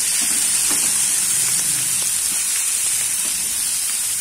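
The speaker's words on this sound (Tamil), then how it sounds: "தக்காளி நல்லா வதக்கிக்கலாம்." Chopped tomato sautés with softened onions in a pan while a hotel-style kuska plain biryani is being made, a steady, even hiss of frying with faint scattered pops and no talking.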